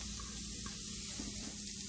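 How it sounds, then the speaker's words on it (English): Steady, fairly faint hissing sizzle of onion frying in a hot cast iron pan, continuous with no talking. "Now I'm going to throw in my onion. Get that sizzle."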